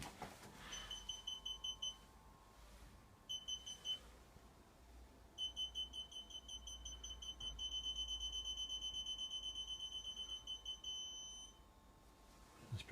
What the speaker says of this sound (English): Get a little beep from the buzzer.